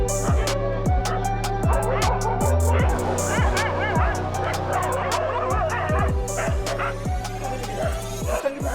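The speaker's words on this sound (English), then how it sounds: "we walked in a tornado of angry dogs" Angry dogs bark in a Varanasi street, several of them close by, with repeated loud barks and yips in rapid, overlapping bursts and some whimpering. Voices can be heard under the barking.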